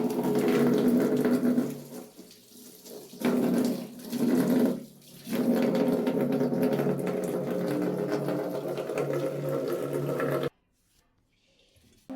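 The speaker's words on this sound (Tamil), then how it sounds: "தண்ணி ஓப்பன் பண்ணிடுவோம்." A tap runs water steadily into a bucket while washing a homemade 20-liter air cooler, close and continuous with brief dips, then cuts off near the end.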